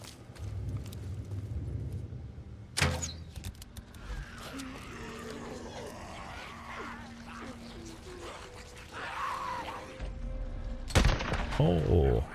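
Gunshots in Days Gone: two sharp, loud reports stand out from steady game ambience, and a voice talks underneath.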